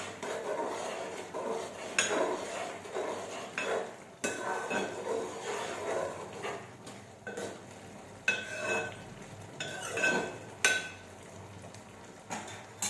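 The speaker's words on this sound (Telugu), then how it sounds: "అడగంటకుండా మళ్ళీ ఒకసారి కలుపుతాను" Tomato and moong dal curry being stirred in a pot, with repeated scraping and clinking of a spoon against the metal in an irregular rhythm, close and moderately loud with no talking.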